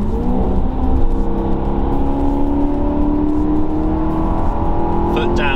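A Maserati Quattroporte accelerates hard at high speed, its engine droning steadily from inside the cabin with rising tone. Near the end the exhaust gives a faint crackle of overrun.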